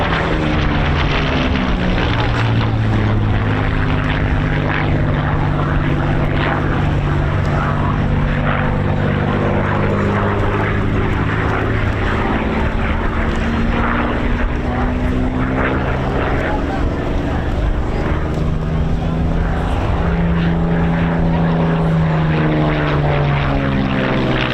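A Spitfire Mark 9B propeller fighter flies at an airshow, its piston engine droning loud and steady with shifting pitch sweeps as it passes, under continuous commentary from a man.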